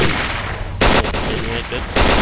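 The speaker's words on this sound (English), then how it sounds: "I hear some shooting going on over here." Gunfire in the shooter game S.T.A.L.K.E.R. Shadow of Chernobyl, loud and close, with dense bursts of automatic fire that stop and start over a constant noisy background.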